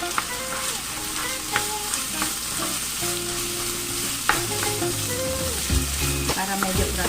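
Carrots and water chestnuts fry in a pan with a steady, close sizzle, mixed with scraping and stirring clatter from a utensil and a few sharp knocks.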